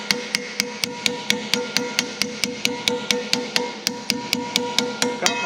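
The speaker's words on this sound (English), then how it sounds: "tapping in the grease seal" A hammer taps a grease seal into place on a Deere 700J dozer undercarriage during a rebuild, striking about twenty times in a steady, even rhythm with sharp, close metallic blows and no talk.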